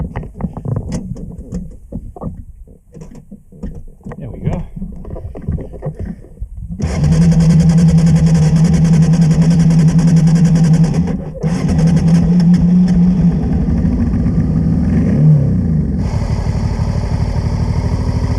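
A Honda motorcycle engine idles in neutral on a remote mountain road in Spain, with a steady, loud, even drone running throughout after an uneven start and a brief dip near the middle.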